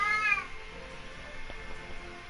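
A single short meow from a cat in the video game Sword Art Online: Hollow Realization opens the moment, then fades into quiet game ambience with no further calls.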